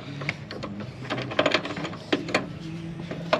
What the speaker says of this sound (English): now we've got those nuts on there, and Dayton is tightening them down.